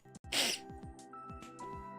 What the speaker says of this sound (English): I gotta maybe sneeze.